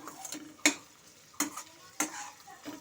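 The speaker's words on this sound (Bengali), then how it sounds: "রসুন কুচি আর পেঁয়াজ কুচিটা ভালো মতো করে একটু ভাজা ভাজা করে নেব" Chopped onion and garlic fry in a pan with a soft steady sizzle, broken by three sharp scraping clatters of a spatula stirring against the metal.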